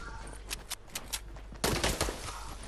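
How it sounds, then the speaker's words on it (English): Gunfire aimed at a player in the video game Fortnite, a string of quick distant shots followed by a louder close burst near the end. "Bro, they're shooting at me."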